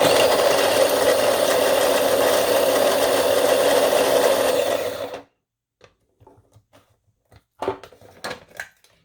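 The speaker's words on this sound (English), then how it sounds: "I'm mincing the garlic in the processor, the mini food processor." Mini food processor mincing garlic, a loud steady whirring buzz for about five seconds that cuts off abruptly, followed by a few light clicks and taps.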